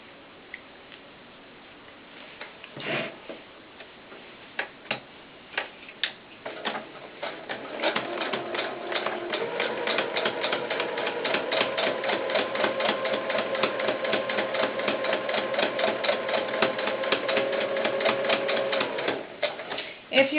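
A sewing machine stitches a doll's baseball cap with red thread on a quarter-inch seam. After a few scattered clicks it settles into a fast, even, continuous whirring run up close, with no talk.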